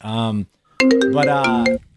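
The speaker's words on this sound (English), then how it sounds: "Is that my phone?" A mobile phone rings with a bright melodic tone that breaks off briefly and then resumes in a podcast studio.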